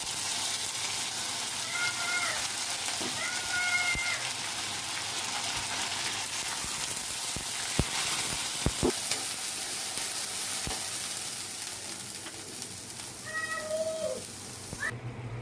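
Garlic paste frying in oil with browned onions for a Bengali fish and gourd-greens dish, giving a steady broad sizzle throughout, with a few short clinks of utensils and faint high cries in the background.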